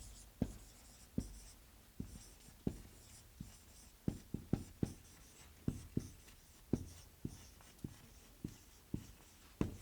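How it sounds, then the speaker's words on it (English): A pencil writes on paper in a quiet series of sharp scratchy taps and short strokes, irregularly spaced, close and faint, with no voices. "let's go ahead and write number 4 down"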